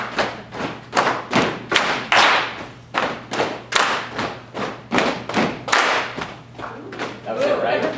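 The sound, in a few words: audience clapping rhythm in phase exercise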